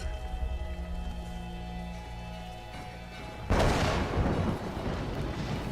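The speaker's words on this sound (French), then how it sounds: "Il m'a fait flipper ce con de coup de tonnerre." A sudden loud thunderclap in the Tomb Raider video game breaks over a steady hum of ambient game music, a broad crashing burst that lingers and slowly fades.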